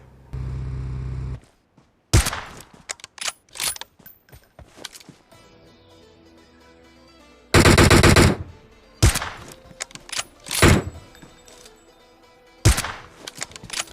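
Gunfire in the mobile shooter PUBG Mobile, including an AWM sniper rifle: loud, sharp shots and short bursts scattered across the stretch, separated by quieter gaps, with one long rattling volley in the middle.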